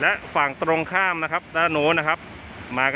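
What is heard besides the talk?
No everyday noise stands out behind the speech.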